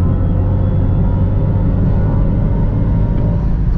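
A Mercedes-AMG EQE53 electric car accelerating at full throttle, heard as a steady, loud low rumble and road roar from inside the car, with a faint high whine running throughout and no talking.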